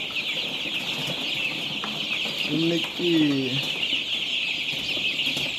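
Young chicks raised indoors peep continuously in a high shrill chorus close by, while a hen gives a few low clucks midway and a voice speaks briefly.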